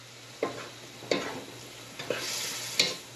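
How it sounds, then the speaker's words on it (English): Cuban-style chicken and rice being mixed in a pot, four soft scraping strokes of a spoon over a quiet sizzle, close and faint, no voices. "Now we're going to go ahead and give that a mix."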